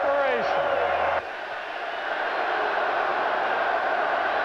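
Crowd at a 1990 Broncos at Bills football game, a broad, steady roar in a stadium that drops slightly after an early burst, with a voice speaking over it at the start.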